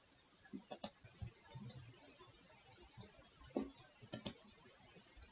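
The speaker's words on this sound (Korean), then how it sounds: "뒤로 버튼 한번 클릭해 보겠습니다" A computer mouse clicks the back button in a Windows 10 translator app, giving a few faint, crisp clicks spaced apart, some in quick pairs, close by and quiet.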